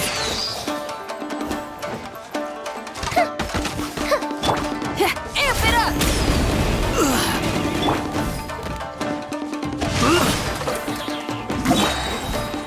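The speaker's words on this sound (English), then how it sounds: "Here come the fireworks!" Fireworks bursting during combat in the video game Genshin Impact, a series of loud crashing blasts over busy battle effects and music, with character voice lines calling out throughout.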